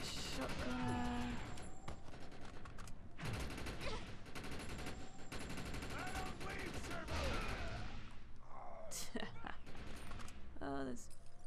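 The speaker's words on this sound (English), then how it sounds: "Shotgun." Shotgun blasts and other gunfire in the video game Defiance, repeated heavy shots amid game noise while players talk over the action.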